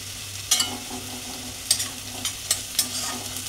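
Onions frying in a pan for ridge gourd dolma give a soft sizzle, broken by four or five sharp scraping clicks of a spatula stirring at uneven intervals, close and without talk.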